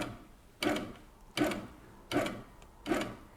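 Handi Quilter Sweet Sixteen sewing machine running a basting stitch: four evenly spaced short mechanical bursts of needle action, each followed by a pause of under a second, close and moderately loud with no talking.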